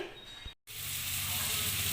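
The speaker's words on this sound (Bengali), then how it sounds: "মাছের ডিমগুলো আমার ভাজা হয়ে গেছে" Fish roe fritters fry in hot oil, a steady, close, bright sizzle that briefly cuts out and then returns fuller and continuous.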